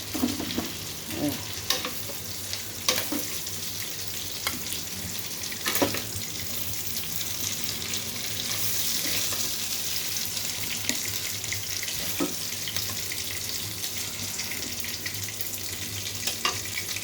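Chicken liver fries in a pan with a steady broadband sizzle, punctuated by occasional stirring scrapes and clinks, heard up close with no voices.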